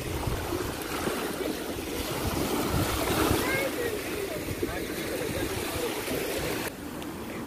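Sea waves washing against the shore on a Dagestan beach, a steady rushing wash with gentle surges and splashes, with faint voices in the background.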